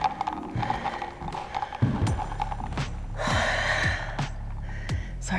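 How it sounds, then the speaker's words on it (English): A person breathes hard and pants in a stunning room in the small desert town of Marfa, Texas. Sharp breaths and gasps sound close, mixed with footsteps and faint handling noise, and no one speaks. "you can just hear me panting in the background"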